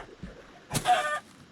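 Chicken in the Minecraft Alpha v1.0 video game: one brief, faint clucking call rising out of quiet background noise, with a soft thud just before it.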